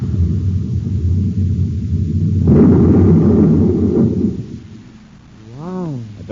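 A space torpedo fired and exploding in a 1950s science-fiction radio drama: a low rumbling blast swells and rolls, then fades before a warbling, wavering electronic tone rises near the end.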